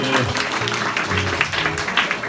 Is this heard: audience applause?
yes